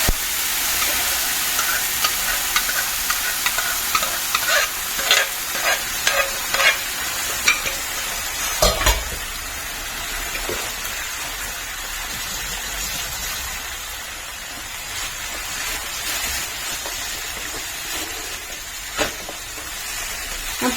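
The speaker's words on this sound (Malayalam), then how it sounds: "കടുകെല്ലാം പൊട്ടിയിട്ടുണ്ട്. ഇനി കുറച്ച് കറിവേപ്പില ഇടാം." Mustard seeds, curry leaves and boiled potatoes fry and sizzle in a pan for a potato curry, with steady crackling and occasional stirring clatter close by, no voices.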